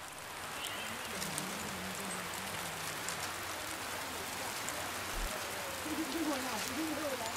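Steady rain falls on the Papua New Guinea jungle as a constant, moderately quiet wash of hiss, with faint bird calls woven through it.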